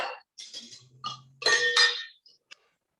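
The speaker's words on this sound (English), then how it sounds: "we're gonna put ice first of all in our cocktail shaker" Ice cubes dropped into a cocktail shaker, a few close, sharp clinks and rattles in quick bursts, then a last small tick before silence.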